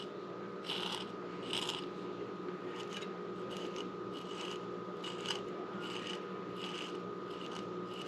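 A knife slicing food in a kitchen while making guacamole, heard as a quiet, regular series of short rasping strokes close by.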